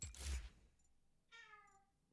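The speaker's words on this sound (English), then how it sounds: "What are you meowing about?" A cat gives a single short meow, faint and alone, after a brief soft burst of noise at the start.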